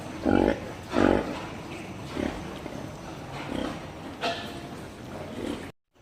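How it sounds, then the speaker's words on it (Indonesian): A mother pig on a pig farm gives low, rhythmic grunts while her piglets suckle, several close pulses spaced about a second apart. "dia akan mengeluarkan suara pada saat anak babi ini menyusu"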